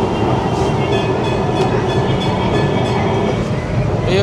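A Kolkata tram runs along its line at the Vivekananda Road crossing, giving a loud, steady rumble with rail clatter and occasional squeaks throughout, close by and continuous.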